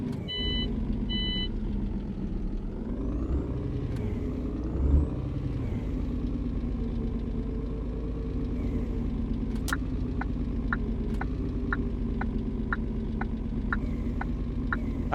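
A heavy truck in a driving simulator game pulls away after the handbrake is released, its engine rumbling low and steady throughout, with a hiss of air and a series of regular electronic beeps later on.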